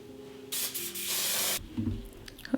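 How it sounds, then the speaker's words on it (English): A single burst of hairspray hisses for about a second, close up, followed by soft rustling and handling noises. "I'm going to spray this with hairspray."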